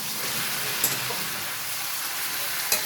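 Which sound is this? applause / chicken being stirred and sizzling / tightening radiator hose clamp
chicken being stirred and sizzling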